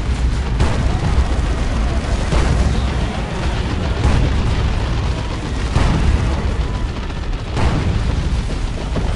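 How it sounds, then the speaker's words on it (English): The Vortex of Doom psychic power erupts in the video game Chaos Rising as a loud, continuous roar of booming, explosive rumble lasting several seconds, with repeated heavier blasts rising out of the din. "behold the Vortex of Doom!"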